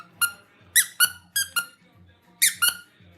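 A squeaky dog toy is squeezed in quick, irregular bursts: seven or eight sharp, high-pitched squeaks, some in close pairs, loud and near with brief quiet gaps between.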